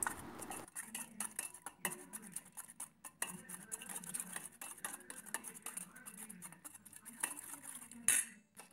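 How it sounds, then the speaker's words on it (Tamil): Eggs being beaten with a spoon in a bowl, a run of quiet, irregular metallic clinks and scrapes close by, with a sharper clatter near the end. "இப்போ இந்த எக்கை நல்லா கலந்து விட்டுக்கலாம்"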